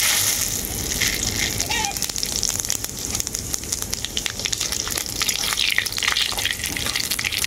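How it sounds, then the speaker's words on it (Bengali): Bay leaves and whole cumin crackle and sizzle in hot mustard oil in a pan, a busy, hissing fry with sharp pops throughout, close up and fairly loud. "তেলটা খুব ভালোভাবে গরম হয়ে গেছে। তেলের মধ্যে দিয়ে দেবো তেজপাতা আর গোটা জিরে।"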